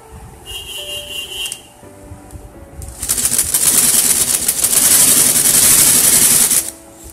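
Sewing machine stitching a twice-folded hem on a newborn baby dress, with a short quiet whir at first, then a loud continuous rapid stitching run of several seconds that stops abruptly near the end.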